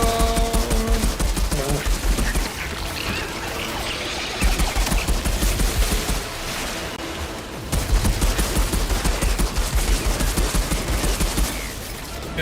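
Sustained rapid gunfire from a fight with a giant rock spider in Outriders, dense bursts of shots running nearly the whole time with brief breaks, loud and close, mixed with game effects.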